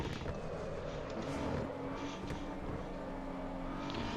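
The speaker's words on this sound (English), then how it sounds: "The BMW up front is racing that Ferrari like it's going out of fashion" A BMW and a Ferrari race car racing on a laser-scanned track in Assetto Corsa EVO, steady high-revving engine drone with a passing swell, loud and continuous, no talk.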